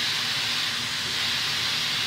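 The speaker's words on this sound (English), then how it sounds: "That's a lot of steam." An Instant Pot releases steam in a loud, continuous close-up hiss that stays steady throughout, with no talking.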